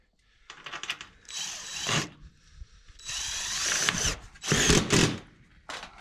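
A power drill drives fasteners through old holes in a ridge cap on an old barn roof, in several short whirring bursts with ratcheting clicks and brief pauses between them.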